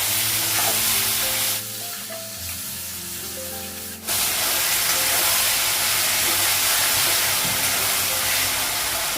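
A spice paste of ground ginger, cumin and garlic with salt fries in a pan, giving a loud, steady sizzle up close that briefly softens before surging back.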